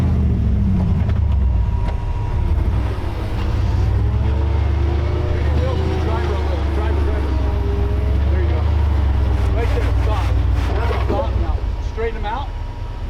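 A rock crawler's engine rumbles low and steady, revving as it crawls along Pritchett Canyon, with some muffled voices and bumps over the motor.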